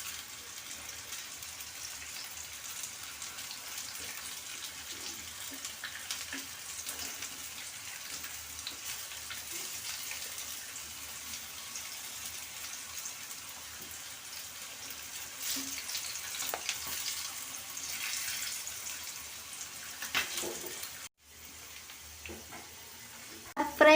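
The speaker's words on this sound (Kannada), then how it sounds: "ಆಯಿಲ್ ಬಿಸಿಯಾಗಿದೆ, ಪಕೋಡೆನ ಬಿಡೋಣ. ನೀಟಾಗಿ ಫ್ರೈ ಮಾಡ್ಕೊಳ್ಳೋಣ." Sweet corn pakoda deep-fry in hot oil, a faint, steady bubbling sizzle with scattered small pops running throughout, ending in a brief handling clatter.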